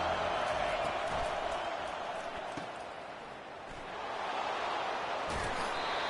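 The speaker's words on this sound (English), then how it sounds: "Listen to this crowd just shaking the girders of this place" Stadium crowd in the NCAA 25 football video game, a broad steady roar of cheering that dips slightly midway then swells again, with commentary voices over it.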